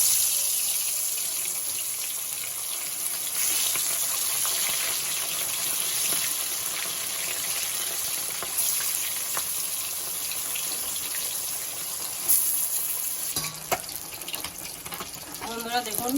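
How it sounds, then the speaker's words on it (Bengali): Chunks of silver carp and rui fish fry in hot oil with a continuous dense hiss and sizzle that stays loud and even, with brief clinks and a short voice near the end. "গরম হয়ে গেছে, এবার আমি মাছগুলো ভেজে নেব।"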